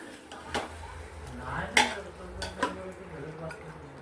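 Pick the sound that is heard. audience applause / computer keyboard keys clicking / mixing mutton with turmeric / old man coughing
mixing mutton with turmeric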